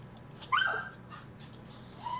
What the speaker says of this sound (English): The dogs be eating trash.